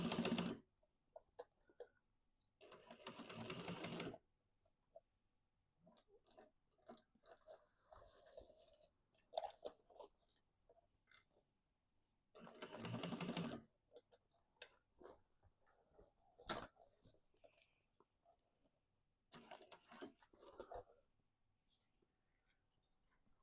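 A sewing machine stitches a duffel bag seam on a flatbed machine in short separate bursts of rapid mechanical chatter, quiet and close, with soft ticks and handling noises in the pauses.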